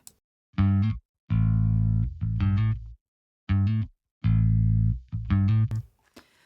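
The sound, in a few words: bass guitar through amplifier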